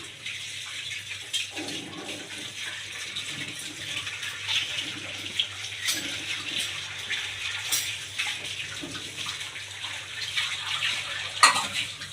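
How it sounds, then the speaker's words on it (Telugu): Rice poured into a pot of boiling water for bagara rice, a steady close bubbling hiss that swells into a brief louder splash near the end. "బియ్యం వేస్తున్నా."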